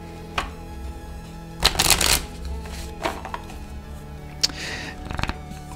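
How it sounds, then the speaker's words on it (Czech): A deck of tarot-style cards being shuffled and a card drawn, with two bursts of riffling and several crisp slaps and flicks, close and clear with no talking. "A vytáhnu i novou kartu z tohohle balíčku"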